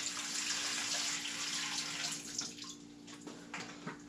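Water pours steadily into a 75 gallon home aquarium being upgraded from a 55 gallon tank, a continuous close rushing and splashing that runs throughout without speech.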